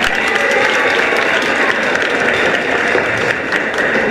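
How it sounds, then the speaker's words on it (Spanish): Loud, dense applause from a crowd at a singing contest for a performer, an even, continuous roar of clapping from start to finish. "Un fuerte aplauso para don Edgar."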